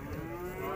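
At a cattle market, a cow gives a brief, low, steady moo, close and fairly quiet, held for under a second.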